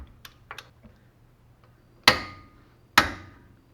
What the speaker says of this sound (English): let's go ahead and torque it to 175 foot-pound